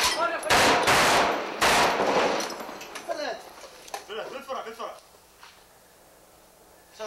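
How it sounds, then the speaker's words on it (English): Bursts of machine gun fire during a battle on Haifa Street, several loud sharp rattles early on, then scattered shots and clinks fading out, with voices talking amid the gunfire. "Back on this rooftop, American troops and their Iraqi counterparts are under fire."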